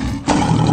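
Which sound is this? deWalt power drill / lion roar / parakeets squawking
lion roar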